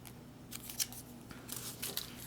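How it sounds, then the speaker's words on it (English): Foil moist towelette packet from a 1995 MRE being torn open, a few crisp ripping and crinkling bursts, close and fairly quiet, with no talk. "Tear open packet, unfold wet nap,"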